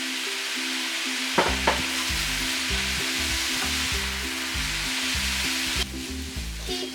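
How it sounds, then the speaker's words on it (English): Yakisoba noodles and vegetables stir-fried in a skillet give a steady sizzle with rhythmic scraping and tossing strokes, close and continuous with no voices. "Stir fry the noodles and vegetables together about 3 minutes"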